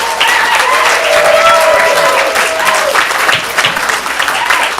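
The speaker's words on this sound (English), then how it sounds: "Let's give them a round of applause." Lively audience applause fills an improv comedy showcase theater, loud and sustained, with a few cheers and voices mixed into the clapping.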